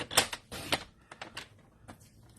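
Stiff cardstock cut on a paper trimmer, with two sharp slicing strokes close together near the start followed by a few lighter clicks and scrapes, close-up and fairly quiet.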